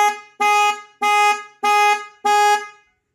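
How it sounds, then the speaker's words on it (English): A Ford Econoline van horn honks five times in a steady rhythm, triggered by a keyless-entry remote's panic button, loud and close, each blast lasting about a third of a second. "Gives you panic, honks the horn and flashes the parking lights."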